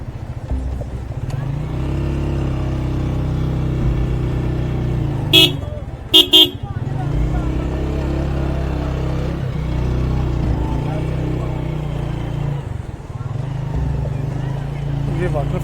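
A motorcycle climbs a mountain road toward a glacier in Naran Kaghan, its engine droning steadily up close, broken by two or three sharp horn toots midway.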